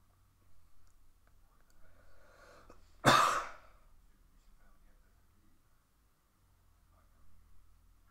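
A single sharp cough, close and brief, in a quiet room, with soft murmuring before it and faint low background hum.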